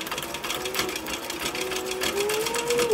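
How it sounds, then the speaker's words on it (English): A sewing machine stitching forward over earlier stitches on a fabric sun visor, a close, steady rapid rattle with a faint rising motor whine, continuous and without talk. "I'm going to actually lift this pressure foot up and come back across it forward, so that I can make sure I hit right on top of those previous stitches."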